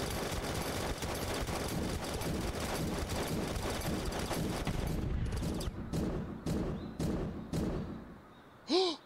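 Gunfire in DEEEER Simulator: a dense, sustained burst of rapid automatic shots, then several separate sharp shots spaced apart as the fire tapers off, ending in a brief swelling sound.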